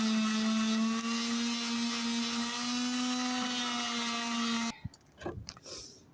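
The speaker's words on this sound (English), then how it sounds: "I'm just gonna sand down the edge first" A power sander working along the edge of a particle board panel, giving a steady high whine close up that cuts off abruptly near the end, followed by a few handling knocks.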